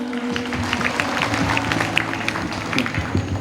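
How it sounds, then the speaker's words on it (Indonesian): An audience at a school language-month literature event claps in a steady, moderate burst of applause, a crowd of hands sounding from across the hall with faint voices mixed in. "Tepuk tangan dong buat Pak Jose Rizal Manua."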